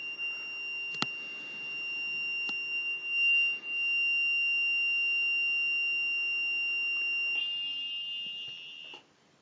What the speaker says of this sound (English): That is the pump overrun timer sounding.